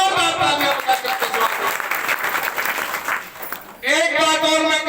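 A crowd at an Agwanpur village meeting on anganwadi matters claps loudly and steadily for about four seconds, then a voice comes in as the applause fades.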